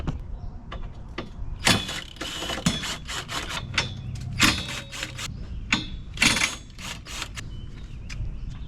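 A ratchet loosens a bolt on a BMW S58/B58 engine bay during spark plug work, giving a series of close, crisp clicking bursts in uneven runs with brief pauses between, alone without talk.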